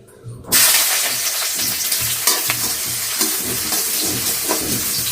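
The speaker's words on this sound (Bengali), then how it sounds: "বেরেস্তার জন্য আমি পেঁয়াজগুলো দিয়ে দিলাম" Onions hit hot ghee in a kadai to fry crisp for biryani, with a loud sizzle bursting in after a short quiet start and continuing close and steady, broken by stirring scrapes.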